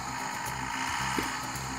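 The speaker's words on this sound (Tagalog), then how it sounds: "Grinding po yung effect ng ating injection pump" Diesel injection pump on an Isuzu Crosswind after a faulty calibration setting, giving a loud continuous grinding, rasping drone with engine hum, steady throughout the short stretch and without talk.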